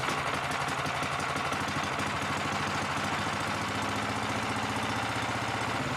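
A Predator 4400 PSI pressure washer's gasoline engine runs steadily, a loud, close, buzzing drone with a rough mechanical throb and no talking.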